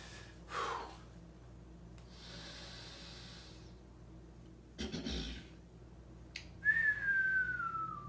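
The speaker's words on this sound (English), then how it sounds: "Because whistling's fun." A person whistles near the end in a bright, falling tone, after earlier stretches of heavy breathing and snorting exhalations; close and fairly loud, with no talk.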